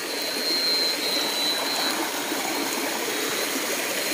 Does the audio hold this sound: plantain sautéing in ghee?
no